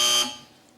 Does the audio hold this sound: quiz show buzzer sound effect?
yes